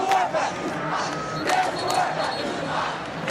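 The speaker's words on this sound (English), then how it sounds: "Got a great crowd here this afternoon for the 28th Vanier Cup." A big crowd roars and cheers in the stands at the 28th Vanier Cup university football game between Queen's Golden Gaels and Saint Mary's, with sustained shouting and swelling cheers, and a voice faintly calling out above the noise.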